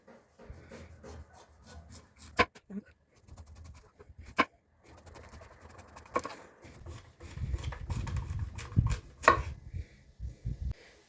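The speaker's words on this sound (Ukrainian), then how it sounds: "Нарізаю на тоненькі смужечки." A knife taps and scrapes on a wooden board, slicing zucchini into thin strips in quick, irregular cuts, growing denser and louder toward the end, close up.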